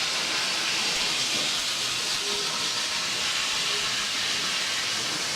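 A model steam locomotive runs on a layout recreating the D&H Canal and railroad at Honesdale, Pennsylvania, around 1900, giving off a loud, steady, broadband steam hiss with no talking.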